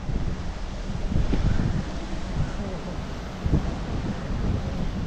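Sea waves and wind near a beach make a steady, moderately loud rushing roar, with buffeting wind noise on the microphone and a few swells in the surf.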